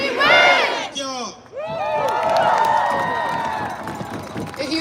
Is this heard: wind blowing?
no